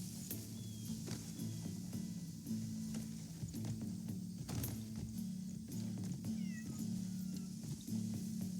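A cat meows in the video game Crimson Desert, a few short calls rising over a steady low game soundscape with faint mechanical clatter and hoofbeats in the background.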